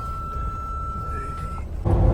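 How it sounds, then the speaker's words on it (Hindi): A vehicle backing up sounds a steady reversing beep over a low engine rumble, with the engine noise swelling louder near the end. "गाड़ी तो बैक जा रही है, आप बोलो।"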